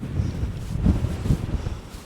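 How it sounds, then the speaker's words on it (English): Strong coastal gusts buffet the microphone with a low, rumbling roar that swells and fades without pause, on a stormy day near Achmelvich in North Assynt, Scotland. "Hopefully that wind isn't coming through in the microphone, but it's really, really strong."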